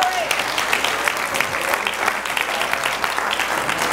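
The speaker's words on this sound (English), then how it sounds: "Give the Lord a praise clap in this house." A church congregation gives a praise clap during a service, with dense, steady, lively clapping filling the room throughout and voices faintly mixed underneath.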